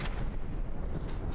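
Cram bomb explosions in the battle game From the Depths make a dense, rolling low rumble of booms, with sharper blasts near the start and end, heard alone without talk.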